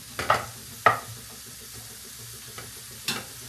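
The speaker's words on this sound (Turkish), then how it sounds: "Tereyağı biraz şöyle erisin." Butter melting in a pan for a béchamel lasagna sauce gives a soft, steady sizzle. Several sharp stirring scrapes break in near the start and end, close by, with no talking.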